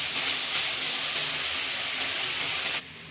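Pork and garlic frying in oil in a pan give a steady, loud broadband sizzle with no talk, cutting off abruptly near the end.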